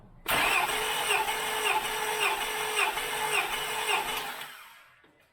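A 2000 Acura 3.2 TL engine cranks over at wide open throttle during a compression test on cylinder 3, a loud, steady starter whir with an even, rhythmic pulsing for about four seconds before it stops and fades.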